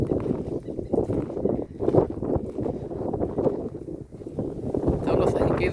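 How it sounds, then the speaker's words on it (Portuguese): Strong wind sweeping across the Sertão region, where wind turbine towers stand, roars and gusts steadily against the microphone with no break for the whole stretch. "porque é muito forte o vento."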